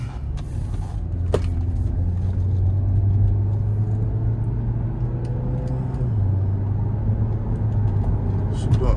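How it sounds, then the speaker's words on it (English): Saab with a turbocharged engine accelerating, a steady close rumble with rising engine drone and a shift partway through, while someone talks over it. "Oh yeah, turbo most definitely working on this joint."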